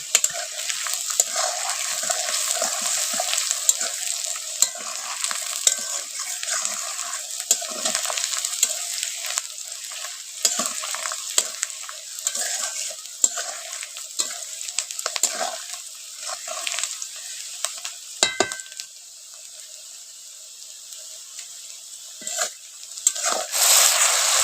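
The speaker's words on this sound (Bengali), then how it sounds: "তো এখন দেখো আমি মশলাটা কষাচ্ছি" Spice paste is stir-fried in a pan in a village kitchen, giving a loud, dense sizzle broken by repeated scraping strokes of a spatula, easing briefly near the end before flaring again.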